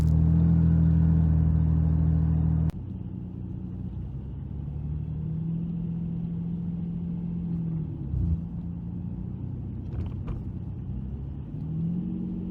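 A turbocharged Nissan 350Z with its exhaust valve open idles with a deep, loud drone that cuts off abruptly and settles into a quieter, steady rumble broken by a brief dip and blip of revs.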